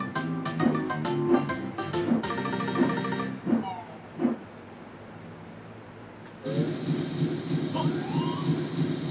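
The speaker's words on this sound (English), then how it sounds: "we'll just be stylish and take the train" Train in the Nintendo 64 game Banjo-Tooie chugging along in rhythmic, tonal pulses that stop briefly and then resume, loud and close over game music, with no voices.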